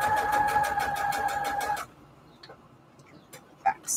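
A sewing machine runs a short back stitch on fabric attached to index cards, a rapid rhythmic whir for under two seconds, then quiet with a few small clicks.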